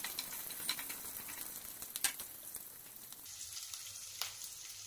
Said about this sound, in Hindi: फिर इसमें ग्रीन चिली और करी पत्ता को डाल दें। सब को मिक्स करके अच्छे से फ्राई करें।